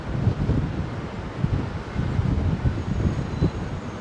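A stiff breeze at Heathrow Airport buffets the microphone with constant low rumbling gusts, loud and close, with no talk.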